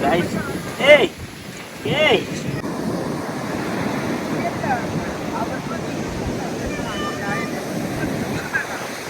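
Sea waves surge and wash along a beach, a steady broad rush with a couple of louder breaking swells early on, wind buffeting the microphone throughout.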